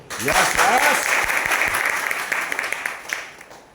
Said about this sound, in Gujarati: દિલથી તાળી